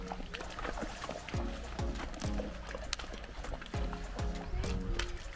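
A horse's hooves clip-clopping at a steady walking pace on a trail in San Rafael, Paquera, Costa Rica, amid outdoor background noise, with a faint voice briefly in the mix.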